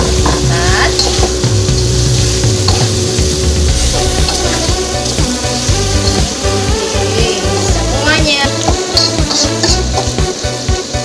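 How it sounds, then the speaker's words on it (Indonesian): Chicken pieces tossed into hot oil with cooked rica-rica spice paste, giving a loud, dense, continuous sizzle with stirring scrapes and clatter throughout; a voice briefly says a word. "Langsung aja kita cemplungin ayamnya bunda."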